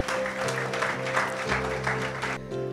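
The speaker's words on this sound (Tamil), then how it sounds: "உங்களுடைய மிகப்பெரிய பலத்த கரகோஷத்திற்கு மத்தியில்" An audience at a spiritual festival stage honouring claps along as musical tones sustain underneath, the clapping fairly dense and close, then cutting off sharply near the end while a low drone lingers.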